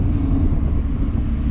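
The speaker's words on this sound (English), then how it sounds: "Gosh, that turbo is just addictive" An LBZ diesel truck's turbo lets out a high, thin whistle that slowly falls in pitch over a deep, steady engine rumble, loud and close.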